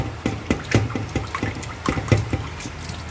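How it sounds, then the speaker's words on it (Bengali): Katla fish being rinsed by hand under running water, with irregular close splashes and sloshing over a steady liquid flow, and no voices. "আমি এখানে ধুয়ে নিচ্ছি মাছটা"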